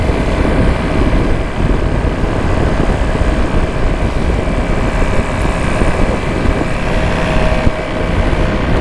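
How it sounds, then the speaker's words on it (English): A Yamaha SR500 motorcycle being ridden on a long road trip from Nuremberg to Munich: a loud, unbroken engine drone heavily mixed with wind rushing over the microphone, with no speech. "this SR500 is a really good bike"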